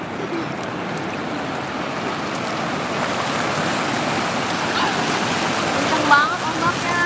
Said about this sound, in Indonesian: Kenceng banget ombaknya.